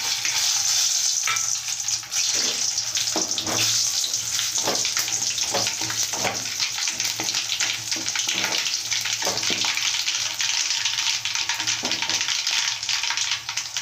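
Dried red chillies sizzle and fry in hot oil, a steady loud crackling hiss with occasional stirring scrapes, for a Telugu onion pulusu.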